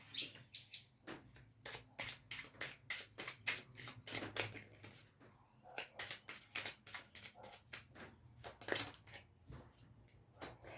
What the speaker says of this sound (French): Je vais vous tirer le petit oracle de Merlin